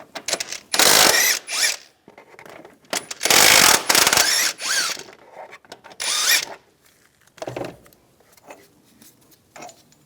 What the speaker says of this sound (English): Now we'll take these two bolts out. I'm going to use an 18mm socket.